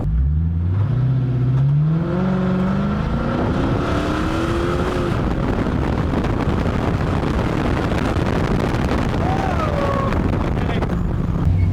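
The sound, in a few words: Hemi-swapped Dodge car accelerating on the road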